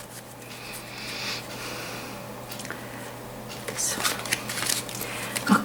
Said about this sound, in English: I will draw 7 cards now, and then I'm going to clarify with another 7 from another deck